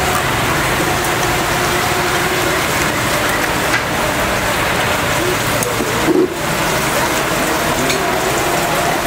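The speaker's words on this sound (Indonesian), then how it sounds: "Jadi kita diserang hujan tiba-tiba capok" Sudden heavy rain pours down in a dense, loud, continuous hiss and patter on surfaces outdoors, steady throughout with a brief dip and muffled knock partway through.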